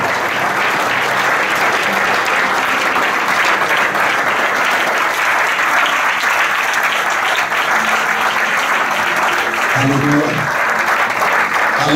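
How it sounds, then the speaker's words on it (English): A church congregation claps, a loud, sustained wall of applause that goes on without a break, with a voice rising briefly near the end. "Can you stand up and clap your hand for Jesus for"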